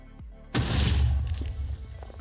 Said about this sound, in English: it's a kind of a different explosion from what you've saw until now